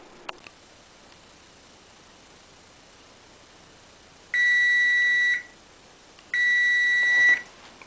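Kitchen oven timer beeping while nachos bake: two long sustained electronic beeps, each about a second, loud and close over faint room hiss, with a small click at the start.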